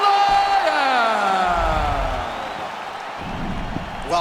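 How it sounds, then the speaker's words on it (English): A crowd in a UFC video game roars and cheers after a fight ends in a TKO, a loud sustained arena wash with whoops that slowly eases off. "this crowd has yet to come down from that result."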